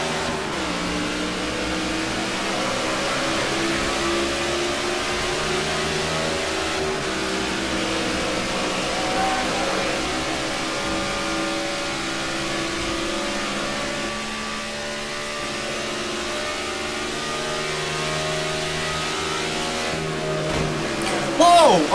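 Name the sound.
NASCAR race cars accelerating at restart, video game NASCAR '14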